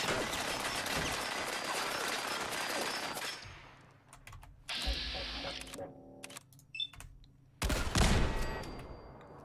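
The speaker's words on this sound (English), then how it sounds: "I fire off a cannon indoors" Cannon blast fired indoors in the video game Fallout 4, a loud booming burst with dense rumbling noise that fades, followed by quieter clanks and another sharp loud impact near the end.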